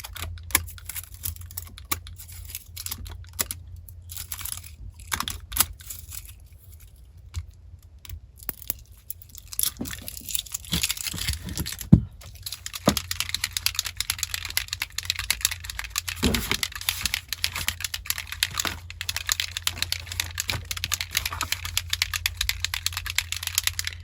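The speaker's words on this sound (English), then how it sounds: "trying to open up some packaging that's pretty much indestructible" Tough plastic packaging is worked open at a craft desk, making a long run of close crinkling, crackling and sharp clicking bursts that grow denser toward the end, with no talk.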